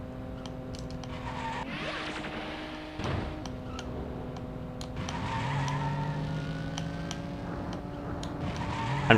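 Car engine tones and tyre skids from the Cruis'n USA arcade racing game, with a steady engine hum, a sudden screech near the middle and sharp crash-like hits scattered throughout.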